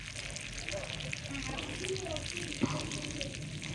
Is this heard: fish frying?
yes